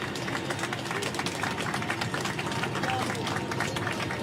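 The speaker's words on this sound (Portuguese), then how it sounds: "Assim que o cargueiro tocou o solo brasileiro, aplausos." Passengers applaud as a KC-390 military cargo plane touches down in Brazil, a steady, dense wash of clapping filling the cabin with crowd murmur mixed in.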